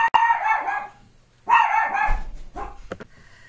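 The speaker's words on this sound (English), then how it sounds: "Someone came to my door and my dog went crazy." Dog barking frantically at someone at the door, three or four loud, close bursts of barks separated by short pauses, with no talking.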